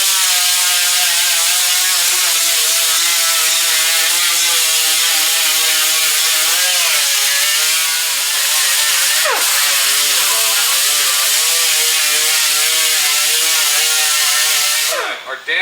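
An abrasive disc that has been used before grinds bare metal on a damaged car body, a loud, continuous high-pitched whine and rasp close by, holding steady for a long stretch with slight pitch wavers.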